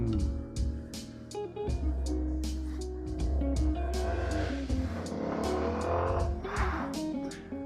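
A CF Moto 250 NK Lite naked motorcycle on a ride, its engine revving steadily with rising and falling pitch as gears change, close and continuous, with occasional higher whines.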